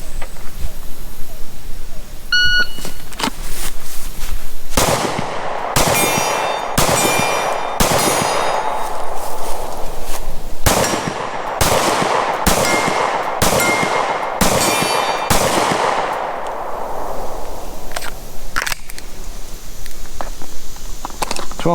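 Pistol shots at an outdoor 40-yard shooting drill, a rapid series of sharp, ringing cracks in quick succession with brief pauses between groups, loud and close, followed by quieter movement.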